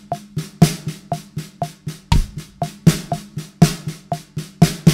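Drum kit groove with snare drum alternating eighth notes, some strokes accented, over kick drum notes: crisp, evenly spaced snare hits with louder accents and deep kick thumps, steady and close with no voices.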